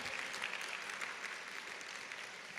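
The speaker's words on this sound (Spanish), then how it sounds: "Puedes dar un aplauso a Dios por eso." A church congregation applauds during a Spanish-language sermon, steady dense clapping filling the whole stretch at a moderate, fairly distant level with no voices over it.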